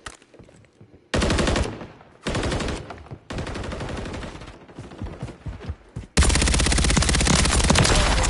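Automatic gunfire in Call of Duty Modern Warfare 3 multiplayer on the Vista Del Mar map, loud close bursts of rapid shots separated by short pauses, ending in a sustained heavy volley.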